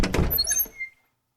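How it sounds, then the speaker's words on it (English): Door opening at night, a close thunk of the latch followed by a brief creaking scrape that fades out quickly, with nothing else around it. "the door opened."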